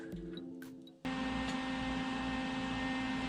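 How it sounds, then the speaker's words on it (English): Welding a gas tank mount for a Predator 212/224 engine, a steady electric buzzing hum that kicks in abruptly after a second and holds evenly, close and continuous without talk. "Now I'll just take and weld it right there"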